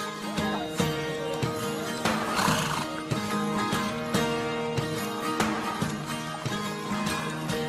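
Horses ridden at a gallop along a trail in the Alpes de Haute-Provence, loud repeated neighs and whinnies over rhythmic hoofbeats, close and busy throughout.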